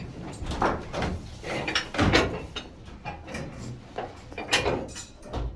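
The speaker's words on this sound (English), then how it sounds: "try to open up an air door" A heavy air door in the Queen Mine, an underground copper mine in Bisbee, Arizona, is worked open with a few creaks, scrapes and knocks in a reverberant tunnel, at moderate level with no talk.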